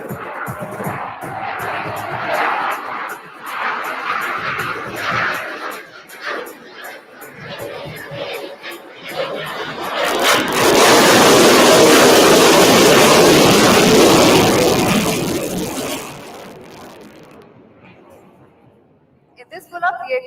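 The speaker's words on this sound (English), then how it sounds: "the light combat aircraft Tejas graciously gliding in front of you" Tejas light combat aircraft passing at an Indian Air Force anniversary air show, its jet roar swelling loud and broad midway, then fading away, with an announcer speaking over the crowd chatter before it.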